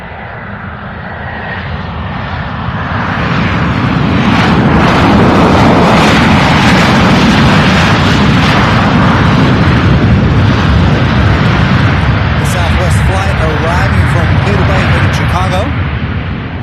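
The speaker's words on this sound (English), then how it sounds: "Giving us some awesome sound. This is Southwest Flight 1095." Southwest Airlines jet engines roar at Louisville International Airport, a loud, sustained rumble that swells and holds, filling the whole stretch.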